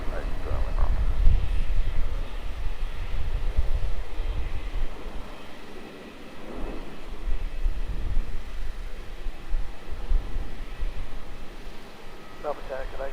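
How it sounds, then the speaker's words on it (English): A Qantas airliner, flight 685 bound for Adelaide, takes off at Melbourne Airport with a sustained low engine roar that swells and fades a little. Radio chatter and nearby talk run over it. "There we go, Qantas 685 off to Adelaide."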